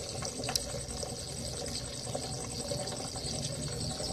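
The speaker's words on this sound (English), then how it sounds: "hearing a little bit of the water and the crickets" Steady trickling water from a barrel aquaponics setup with a faint, continuous chirring of crickets underneath on an evening, quiet and even throughout with no talking.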